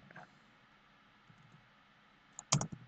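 Computer keyboard and mouse in use while editing in Adobe Premiere Pro, faint background hum and then a quick cluster of sharp clicks near the end.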